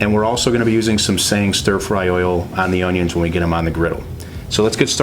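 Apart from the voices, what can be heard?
No everyday noise stands out behind the speech.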